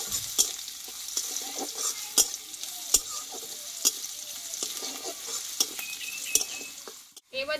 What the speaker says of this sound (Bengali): আর এখানে নিয়েছি থেতো করা রসুন। এটা একটু ভালোভাবে আমি একটু ভেজে নেব।